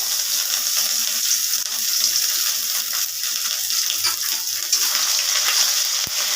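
Grated ginger sizzles and fries in a pan of chholar dal being cooked, a steady close hiss with faint stirring and no voices.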